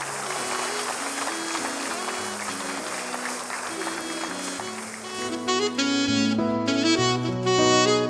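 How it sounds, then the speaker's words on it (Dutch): Ceremony audience applauds blood donors being honoured, sustained crowd clapping under music that swells louder toward the end. "Dames en heren, geef ze een warm applaus"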